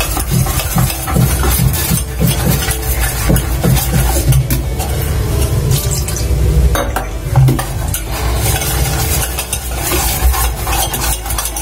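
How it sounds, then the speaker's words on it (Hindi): Gram flour whisked with a bowlful of water into a smooth batter for motichoor laddu boondi. Steady scraping and stirring continues throughout, with occasional clinks of utensil on bowl and no talking. "तो फ्रेंड्स, अब मैं इसको घोल बना लेती हूँ।"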